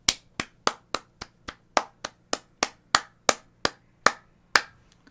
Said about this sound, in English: That was me clapping my ass cheeks.